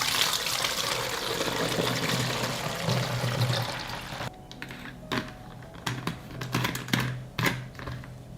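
A hand sprayer misting diluted milk solution with a little liquid soap onto tomato and cucumber leaves: a steady close hiss of spray for several seconds, then short separate bursts and clicks of the trigger.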